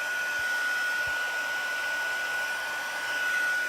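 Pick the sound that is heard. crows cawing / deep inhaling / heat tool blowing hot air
heat tool blowing hot air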